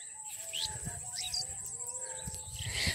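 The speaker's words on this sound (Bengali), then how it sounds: "কত পাখি চারিদিকে, প্রচুর পাখির আওয়াজ" Several birds chirp and whistle around rural paddy fields, giving repeated high, sweeping calls at moderate distance, with a steady insect-like tone and a faint rustle underneath.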